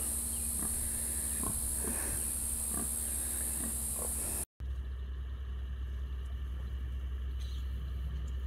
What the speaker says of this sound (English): There's a little pig under there.